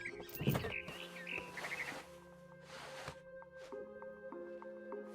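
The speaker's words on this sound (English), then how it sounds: "Then I heard chirping outside my window. It was a barn swallow going back to her nest." Barn swallow chirping outside a window in the PC game What Remains of Edith Finch, a few bright twittering calls over steady tonal ambience and soft clicks, at moderate distance with no speech.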